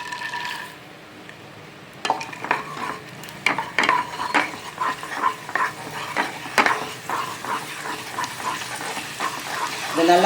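Dried manathakkali berries frying in hot sesame oil in a pan, a steady sizzle broken by repeated clinks and scrapes of a spoon stirring, close and fairly loud.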